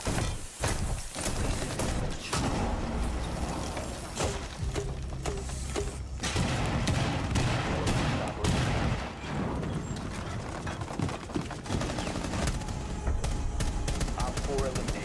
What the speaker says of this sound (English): Cluster charge going up.